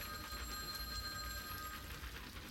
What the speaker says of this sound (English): It was the unmistakable ringing of a telephone.